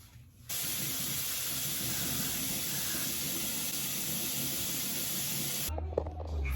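Hair spray hisses from an aerosol can in one long, continuous burst lasting several seconds, close and steady, applied over mousse-styled hair, then cuts off sharply.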